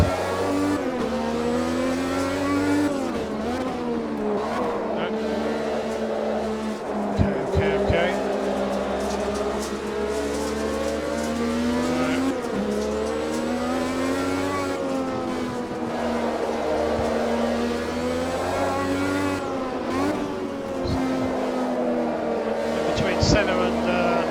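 A 1985 Formula 1 car in Automobilista 2 pulls out of the pits at the Brazilian Grand Prix on cold tyres, its engine winding up and down through repeated gear changes, loud and close, with brief clicks and knocks.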